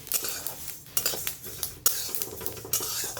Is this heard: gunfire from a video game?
no